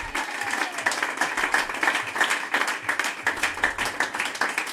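At an orphanage gathering, an audience claps for the Lord in a steady, rhythmic beat. The claps are close, fairly loud and closely spaced, and a few faint voices sound under them.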